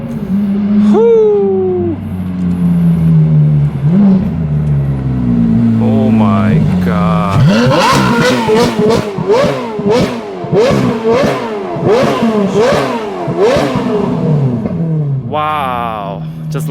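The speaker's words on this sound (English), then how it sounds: "This is one of the best exhaust sound I ever had in my life." Ferrari 430 Scuderia fitted with an Agency Power titanium exhaust, stock headers, revs hard in a run of sharp, rising blips that come one after another, loud and close. It starts with an idle under excited shouting, and a voice keeps exclaiming through the revs.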